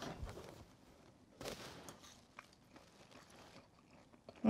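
Vegetable spring roll filling with green onions is tasted, giving a few soft, close crunching bites and chewing sounds against a quiet background.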